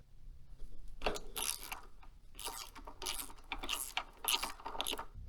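The adjustable kickstand on a Stark Varg Gen 2 electric motorcycle is lengthened, producing close, irregular clicking and ratcheting metal bursts in several clusters over a low background hum, with no speech.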